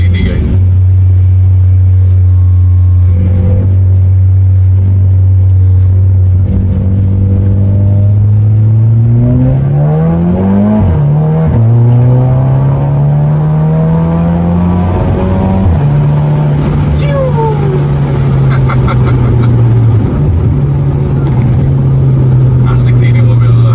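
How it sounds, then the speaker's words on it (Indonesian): A VW Scirocco 1.4 engine hums steadily, its pitch rising and shifting as it revs, with a faint high turbo whistle riding above the loud, close rumble. "Jadi kalian bisa mendengar siulan dari si mobil ini guys."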